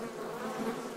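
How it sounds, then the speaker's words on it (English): A swarm of bees buzzes in the video game Don't Let Go, a dense, loud, steady drone filling the moment with no speech. "That's bees, isn't it? I think that's bees! That's fucking bees!"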